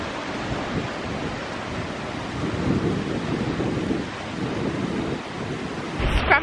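Blustery wind roars across the microphone alongside crashing surf at a Cornish sea cove near Predannack Head, a steady broadband rush with swelling gusts and a louder burst near the end.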